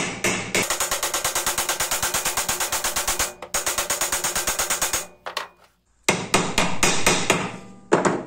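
Hammer repeatedly striking an ordinary low-carbon steel nail to flatten it, with fast, evenly spaced close metallic blows that pause briefly and then resume in rapid bursts, loud and alone.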